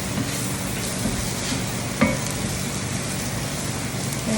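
Flour cooking in butter and olive oil in a pan for chicken pot pie: a steady, close, dense sizzle with a faint scrape of stirring and one brief knock midway, no talking.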